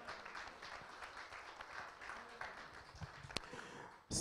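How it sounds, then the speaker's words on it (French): A church congregation applauds and cheers in praise during a sermon, with a steady wash of clapping at moderate level and a louder burst at the very end. "Est-ce que tu peux acclamer la parole du Seigneur?"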